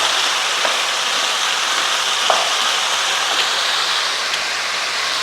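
Kerala-style taro stem curry bubbles and sizzles in a pan while salt is stirred in, giving a continuous hissing, frying wash with a few faint scrapes of the spoon.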